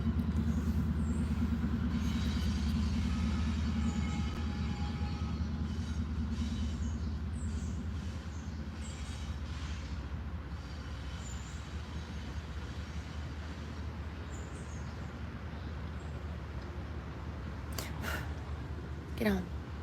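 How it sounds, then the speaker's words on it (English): A train passes somewhere out of sight, a steady low rumble that fills the background throughout and slowly eases off, with a brief sharp rattle near the end. "The train's going by."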